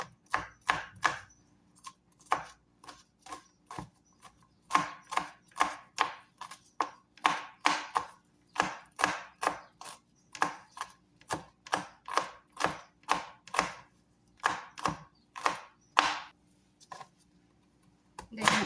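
Knife chopping garlic on a cutting board for a sweet and sour tuna dish, a steady run of crisp, close rhythmic chops with short pauses, alone without talk.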